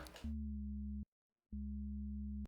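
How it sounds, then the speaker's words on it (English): A Serum synth bass note with soft clipping distortion in the pre-filter stage sounds as a sustained, steady buzzing tone, cut off briefly by a half-second gap of silence before it returns at the same level, loud and alone. "Some distortion, soft clipping mode in the pre-filter type."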